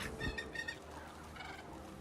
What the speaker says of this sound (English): A hacking caw breaks free from his ebony beak.